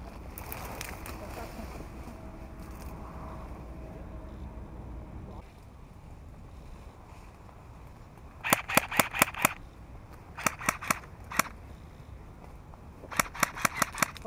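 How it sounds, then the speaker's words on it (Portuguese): Airsoft guns firing during an outdoor sniper skirmish on a game field, rapid clusters of sharp cracking shots in three short bursts at moderate distance, with faint voices in the background. "isso é tiro cego aí"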